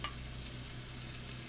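Bacon frying in a pan gives off a faint, continuous sizzle with a soft crackle, steady throughout and heard without voices.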